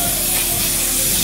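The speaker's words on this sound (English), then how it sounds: "I'll use Johnny's Fix Power Hold Hairspray." Johnny's Fix Power Hold hairspray is sprayed in a barbershop, a loud, close, continuous aerosol hiss lasting the whole brief moment.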